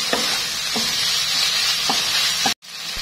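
Seasoned meat filling stir-frying in a non-stick pan, a loud steady sizzle with a few scraping stirs before a brief cutoff near the end.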